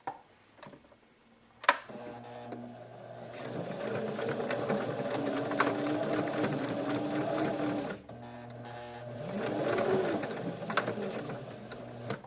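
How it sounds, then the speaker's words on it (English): A sewing machine stitches replacement elastic on a cloth diaper, running in a steady, close whirring chatter that stops briefly after a start and then continues in two sustained runs. "I'm going to start about here and just sew straight up"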